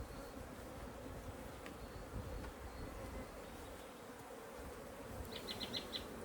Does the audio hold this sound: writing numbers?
no